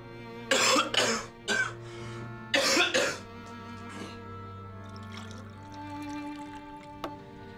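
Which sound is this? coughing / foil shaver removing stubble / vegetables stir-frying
coughing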